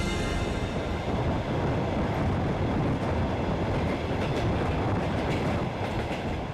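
Trans-Siberian Railway train rolling along the line: a dense, loud, continuous rumble of wheels and carriages with faint rhythmic clatter, heard alone with no voices.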